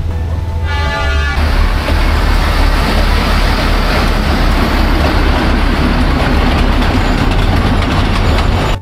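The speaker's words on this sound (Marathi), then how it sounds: "अचानक आपल्याला टॉय ट्रेनचे दर्शन झाले" A loud horn toots at the start, then the Matheran hill station toy train rumbles steadily close by, with continuous rolling noise filling the rest.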